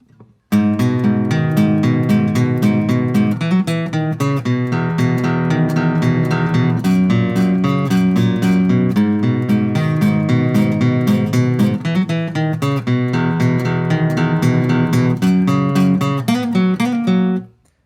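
Acoustic guitar plays the verse of a song, strummed and picked continuously at a loud, even level from start to finish with no voice.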